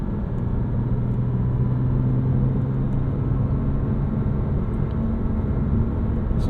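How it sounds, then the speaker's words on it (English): A 2006 Porsche Cayman S on the road, its engine giving a steady droning hum with a faint tonal whine layered over broad road rumble, continuous and close for the whole stretch. "Porsches always have like this whine to them."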